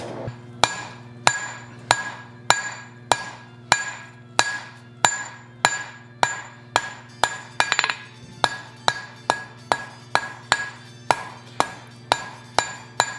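A blacksmith hammers hot steel on an anvil, tapering a snake body for a forged candle holder, with steady close ringing blows roughly every two-thirds of a second, each strike followed by a brief metallic ring.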